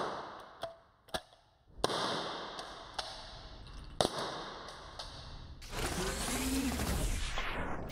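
A less lethal training round fired downrange on a range: a few sharp, separated cracks and pops, then a longer burst of noisy rushing, moderately loud with no speech.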